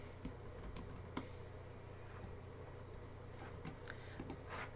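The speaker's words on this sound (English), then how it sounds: "I'm going to type the word ride." Quiet, irregular keystrokes tap on a computer keyboard as a short word is typed, a few distinct clicks spread over several seconds against a faint background hum.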